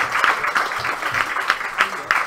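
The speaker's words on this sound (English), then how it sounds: "can we give one final round of applause to Marc?" At a history teachers' conference, the audience gives a brief round of applause for historian Marc Morris, heard as moderate, steady clapping with voices mixed in.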